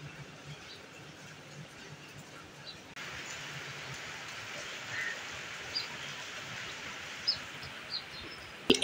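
Steady rain falls outdoors during a monsoon day, a broad soft hiss that grows heavier after a few seconds, with a few faint birds and drips on top and no voices.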